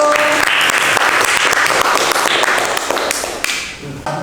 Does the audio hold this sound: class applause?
yes